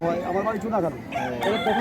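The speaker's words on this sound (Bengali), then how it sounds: "এই মোরগটা হচ্ছে উড়িষ্যার মোরগ" A rooster from Odisha crows loudly and close by, its rising and falling call filling the short moment.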